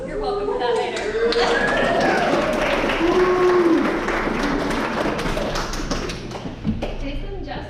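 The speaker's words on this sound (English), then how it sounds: "give her a big round of applause" A crowd at a retirement party for Nikki gives a warm round of applause, steady clapping mixed with chatter, cheers and a few thumps, fading slightly toward the end.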